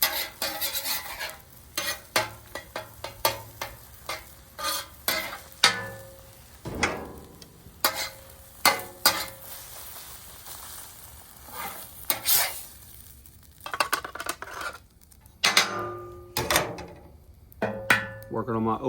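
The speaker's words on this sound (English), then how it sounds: "And just want to cook the eggs to your liking." Eggs frying on a Blackstone griddle, a soft steady sizzle beneath frequent sharp metallic scrapes and clicks of a spatula against the flat steel top, close by and irregular in rhythm.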